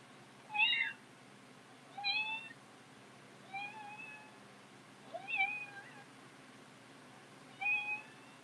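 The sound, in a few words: cat meow imitated by hand washing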